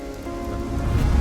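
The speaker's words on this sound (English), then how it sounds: "to the sound of the rain droplets on my jacket and my surroundings" Rain droplets patter on a jacket and the surroundings during a roadside wait on a road trip in Sulawesi, Indonesia, a steady close hiss of drops that grows slightly louder toward the end.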